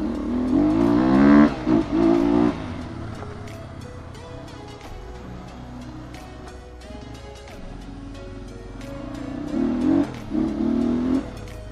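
A Crossfire GR7 motorcycle on a test ride, its engine revving up in harmonic surges at the start and again near the end, with a lower steady running hum between, heard close with no talking.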